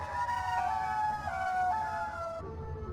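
A siren wails up and down in pitch, fairly faint and distant, its rising and falling tones repeating over a low rumbling background.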